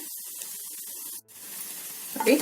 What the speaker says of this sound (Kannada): ಒಂದು ಅರ್ಧ ನಿಮಿಷದಷ್ಟು ಸಿಮ್ಮಲ್ಲಿ ಇಟ್ಕೊಂಡು ಚೆನ್ನಾಗಿ ಫ್ರೈ ಮಾಡ್ಕೊಳ್ಳಿ